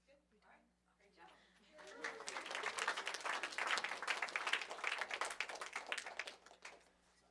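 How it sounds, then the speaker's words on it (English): A room full of people at a school grant awards event breaks into applause after a brief murmur, the clapping swelling quickly, holding steady for several seconds, then tapering off. "let's just have a round of applause for all three"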